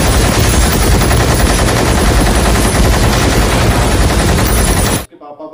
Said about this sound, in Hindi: 4 महीने लगे उस मशीन गन को बनाने के लिए